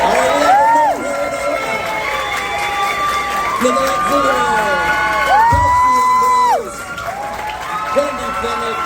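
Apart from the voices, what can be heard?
audience applause and cheering welcoming panelists on stage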